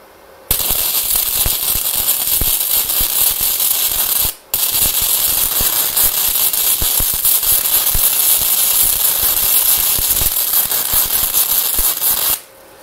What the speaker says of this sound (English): So I'm going to try going straight across and we'll see if we can get a good weld.